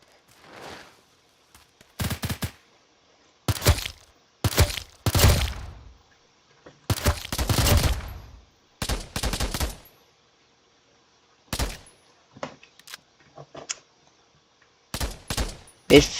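Rapid bursts of in-game gunfire during Roblox weapon testing, clustered volleys and single cracks separated by short pauses, loud and close with no other sound between.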